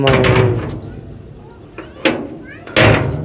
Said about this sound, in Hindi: हाँ दरवाज़ा बंद, इधर भी दरवाज़ा बंद